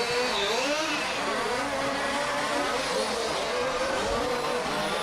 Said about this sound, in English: Filippo very squarely on full throttle coming down that main straight.